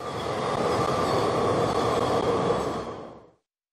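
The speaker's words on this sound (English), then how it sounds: "Monorail." Monorail train gliding past with a steady loud rumble and a faint tonal whine, continuous throughout before ending abruptly, with nothing else audible.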